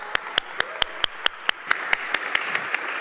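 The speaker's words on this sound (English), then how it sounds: "Let's give Daniel a round of applause." Applause for a guest named Daniel comes as an even, steady beat of sharp, distinct claps, about a dozen in three seconds, sounding like only a few hands in a quiet room.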